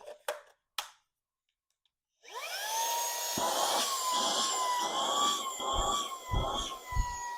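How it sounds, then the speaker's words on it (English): After a few taps and a short pause, a small Tesery handheld cordless vacuum whirs on with a high, steady whine that keeps running, close to the microphone. "Comes with the vacuum."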